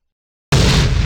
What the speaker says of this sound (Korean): 놈의 발밑에서 무언가가 터진다.